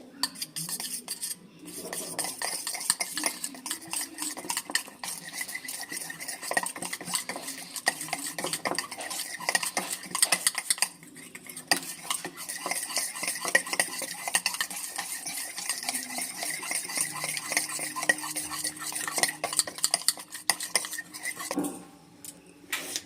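Batter for Bengali bhetki fish fry is whisked in a bowl, a fast continuous clatter of a utensil against the bowl that is close and steady for about twenty seconds, with brief pauses and no speech.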